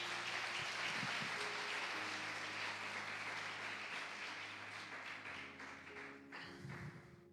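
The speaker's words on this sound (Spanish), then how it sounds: "Den un aplauso al Señor porque nos da esta oportunidad." A church congregation applauds during a Spanish-language sermon, dense steady clapping filling the room and slowly thinning toward the end, with a few louder thumps near the close.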